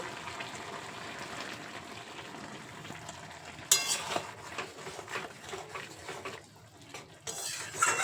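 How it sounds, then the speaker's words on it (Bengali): Pumpkin greens are stirred in a pan with a utensil, scraping and clinking over a soft sizzle, then water from rinsing a spice bowl is poured in with a brief splash, close and fairly quiet. "এবার নাড়াচাড়া করে নিয়ে মশলার বাটি ধোয়া জলটা এর মধ্যে দিয়ে দেব"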